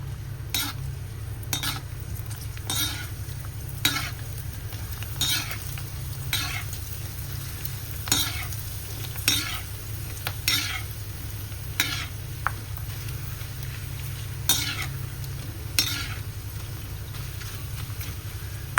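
Food fries in a pot with a constant sizzle, broken by regular scraping stir strokes about once a second over a low steady hum.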